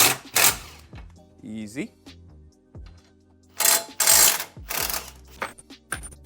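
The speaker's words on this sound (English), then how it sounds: "We will be using an impact." Impact wrench zipping strut bar bolts off a GR Supra, several short loud whirring bursts with pauses between them, nearby, with someone speaking briefly in between.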